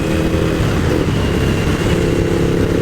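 Suzuki SV1000 V-twin motorcycle being ridden, a loud continuous engine drone with steady throb and wind rush, heard up close from the rider's position.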